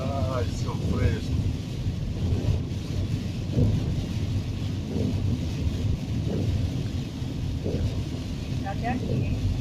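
Rain falling steadily with rumbles of thunder in a town in Rio Grande do Norte, a continuous wash of noise with low booming swells; people talk intermittently over it.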